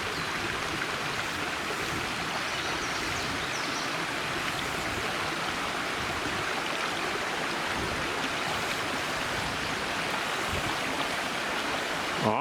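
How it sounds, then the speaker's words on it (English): Seneca Creek rushes over rocks at a trail crossing, a steady, close, full-bodied flow with no voices. "we've got a little bit of a creek crossing right here"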